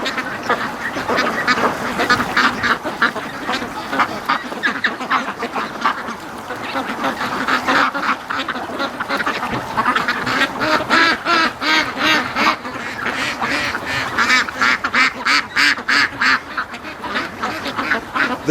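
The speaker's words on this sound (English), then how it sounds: "These are the indoor ducks that are coming out." Free-range ducks emerging from a barn quack in a busy, steady chorus, nearby and fairly loud, with a voice faintly mixed in.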